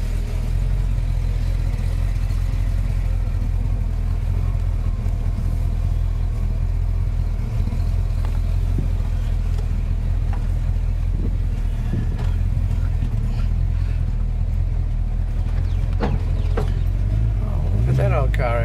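A Mitsubishi L200 pickup with a V8 engine and tuned carburettor jets runs during a ride, giving a steady loud low rumble with slight rises in revs, while people talk over it.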